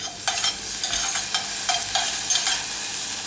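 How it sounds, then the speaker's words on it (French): Green olives heat in a pan with a soft sizzle and close, repeated stirring scrapes coming in rhythmic bursts. "Je fais juste un petit peu chauffer, en fait mes olives"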